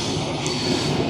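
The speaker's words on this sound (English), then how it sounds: "train tracks, which are a bit annoyingly loud." Train rumbling along nearby railway tracks on a suburban walk, a continuous loud roar with low mechanical rumble and steady high-pitched rail noise throughout the brief moment.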